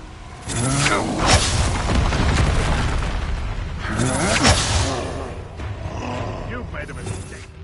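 A Confringo blasting spell from Harry Potter erupts in two loud booming bursts, each with a rushing whoosh and rumbling tail, separated by a brief lull amid speech and background mechanical noise.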